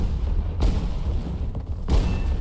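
Bombs exploding in the video game War Thunder, dropped from a close air support aircraft: two heavy, booming blasts about a second apart, each a sharp broad thump over a continuous low engine drone.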